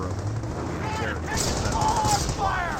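A .30 cal machine gun fires in the strategy video game Company of Heroes, with rapid bursts of gunfire mixed with other battlefield noise and a voice talking over it.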